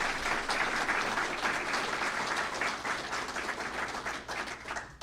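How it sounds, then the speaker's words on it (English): A room of people at a Florida government press conference in Orlando claps in a steady, dense round of applause heard alone and close, tapering slightly at the end. "please give a big round of applause to these guys."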